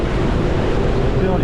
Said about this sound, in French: les vagues il y a 3 mètres, c'est extraordinaire